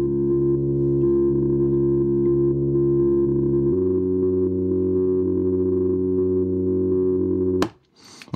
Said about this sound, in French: vous pouvez entendre un petit aigu qui harmonise en fait ma mélodie